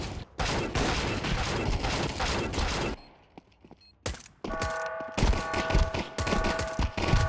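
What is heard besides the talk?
gunfire in a video game shooter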